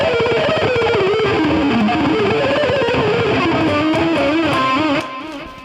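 A loud, sustained distorted electric guitar is played live through effects, its wavering bent lead notes ringing continuously for about five seconds before dropping off sharply.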